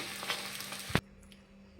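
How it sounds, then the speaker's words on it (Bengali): Carrot parathas fry in a pan with a soft sizzle, broken by a sharp clatter near the middle, then quieter frying. "প্রত্যেকেই প্রত্যেকটা যতগুলো আছে আমি ততগুলো এইভাবে ভেজে নেব"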